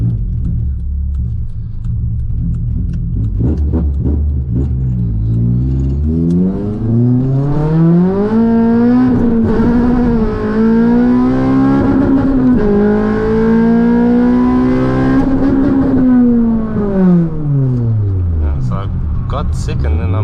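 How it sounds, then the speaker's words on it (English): K24-swapped Honda FN2 Type R engine, very loud, revving and accelerating hard through the gears with rising and falling pitch sweeps, heard close from inside the car, with a voice briefly audible. "this is a very loud Type R"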